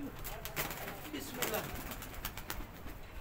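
Three pigeons settled near a house, with soft cooing and light fluttering scattered through a quiet outdoor scene, faint and intermittent with brief sharp clicks.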